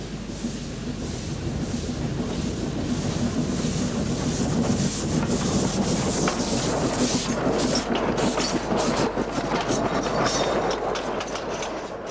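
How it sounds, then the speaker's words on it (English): A Manx railway train heading for Port Erin in 1968 rumbles past in a steady roar, its wheels clattering rhythmically on the rails with wind buffeting the microphone throughout. "Train heads for Port Erin in 1968, the last year of the Peel and Ramsey lines"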